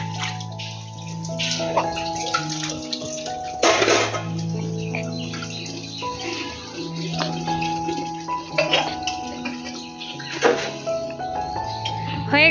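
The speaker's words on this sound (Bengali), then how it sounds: "পুরো চুবিয়ে স্নান করাবো আজকে।" A baby is bathed in water, with intermittent splashes and pouring bursts over a steady tonal background.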